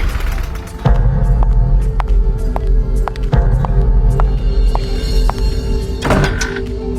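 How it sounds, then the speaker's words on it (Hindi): Someone knocks on a door in an animated Hindi horror story: a series of dull, spaced thuds sound close over a steady low hum, with no voices. "तभी दरवाजे पर दस्तक हुई।"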